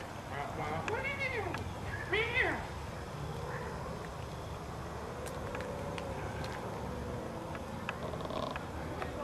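A black cat gives a couple of drawn-out, wavering meows early on, followed by low rumbling background noise.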